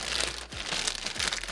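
A plastic bag used as a foley prop is crinkled and crumpled in several quick bursts, a bright rustling texture heard close and fairly quiet.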